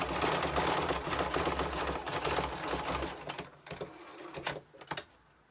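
A sewing machine stitches a quilting line down a seam on patchwork, a dense rapid mechanical chatter running steadily for several seconds, then slowing into a few separate stops and bursts before falling quiet.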